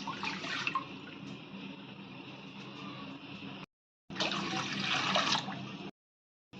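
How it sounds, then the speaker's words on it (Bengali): Water pours steadily into a cooking pot set up for boiling vegetables for shahi sabji, a Bangladeshi dish, in two close, loud streams split by a short pause. "দিয়ে দিচ্ছি পরিমাণ মতন জল।"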